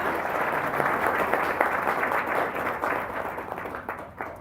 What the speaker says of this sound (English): I know you've just clapped